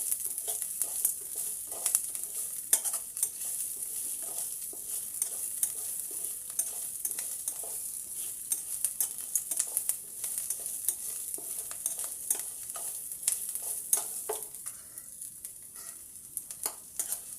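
Roasted chana dal fries lightly in a pan, with a continuous bright sizzle and repeated scraping stir strokes close by that ease off near the end.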